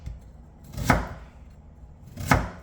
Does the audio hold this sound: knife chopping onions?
yes